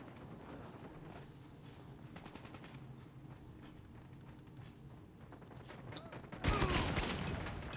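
SKS rifle gunfire in a video game, a quiet stretch of rapid crackling shots followed by one sudden loud, close blast near the end that rings out.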